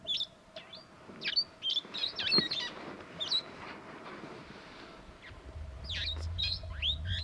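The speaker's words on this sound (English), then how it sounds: "You will probably have guessed from all that chirping that it is a parrot." A parrot chirping in the Timbavati bush, with repeated sharp high tweets in quick bursts at the start and again near the end, moderately close over a faint steady background hum and low rumble.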